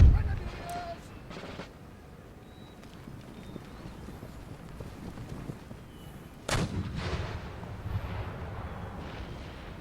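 Artillery cannon fire in the Empire: Total War battle game, a heavy booming blast at the start and another loud report later, with rumbling battlefield noise and faint commands between.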